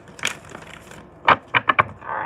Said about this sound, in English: I want to do one more shuffle.